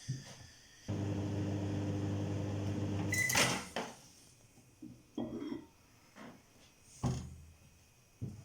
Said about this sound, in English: I think give it another microwave because they're quite severely thick.